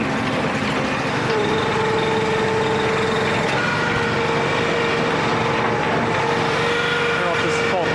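The engine of a commercial log splitter runs loud and steady, a constant droning hum with a few faint tonal whines and no speech.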